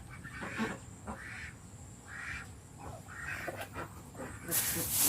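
Ducks on a farm quack in a run of short, regular calls over a steady outdoor background, while someone talks.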